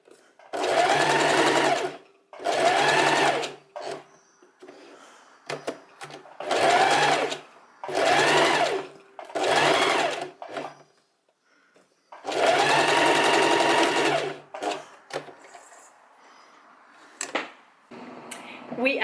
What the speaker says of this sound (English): And now I'm gonna slowly start sewing, and just make sure you're not too close to the edge.